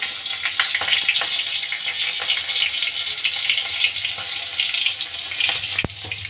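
Cumin and green chillies frying in hot oil, a continuous close hiss and sizzle with scattered crackles and one sharp click near the end, no talking.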